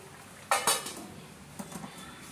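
A metal lid clanks down onto a pan of simmering Katla fish curry, two sharp clatters close together followed by a few softer clinks as it settles, with no talk.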